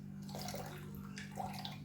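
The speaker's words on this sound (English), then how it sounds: "So I'm going to use some warm water." Lukewarm water poured into a bowl for making bread dough: a soft, uneven trickle and splash of liquid, close but quiet, with small bursts of louder pouring.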